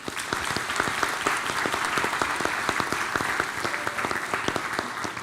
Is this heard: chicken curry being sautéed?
no